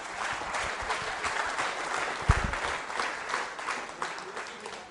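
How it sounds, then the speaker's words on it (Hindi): Audience clapping at a school quiz show for a student contestant, a moderate steady patter with one sharper burst midway, fairly close. "तालियां जोरों से बजाइए, जोरदार तालियां"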